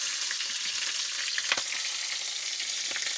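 Soy sauce hits a hot frying pan, giving a loud, steady hiss and sizzle throughout with a brief clink near the middle.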